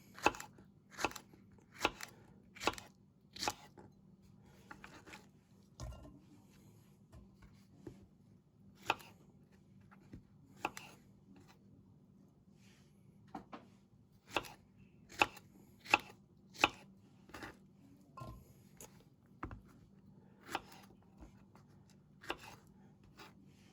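A Rada kitchen knife slices through fresh okra on a cutting board, producing a quiet, irregular series of crisp chopping taps with short pauses between the strokes.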